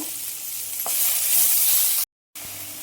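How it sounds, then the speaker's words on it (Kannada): A spicy ragi kadubu tempering of onions sizzles hard in a hot pan, giving a steady, close hiss that is stirred once or twice and cuts out briefly near the end. "ಸೊ ಜಾಸ್ತಿ ಒಗ್ಗರಣೆ ಹಾಕೋಣ"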